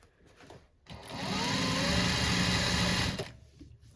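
A sewing machine back stitching along a folded seam allowance on a rolltop rucksack. Its motor whir ramps up into one steady, fairly loud run of about two seconds, then winds down, with quiet handling sounds around it.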